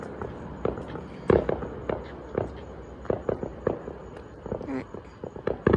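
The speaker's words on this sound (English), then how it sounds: "A lot of firework action." Fourth of July fireworks explode in a rapid, irregular string of sharp bangs and crackles at moderate distance, some close together, with footsteps and a brief spoken word from a person nearby.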